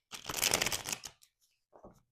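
A deck of tarot cards is shuffled close up: a dense, riffling burst lasting about a second, a brief pause, then a shorter second riffle.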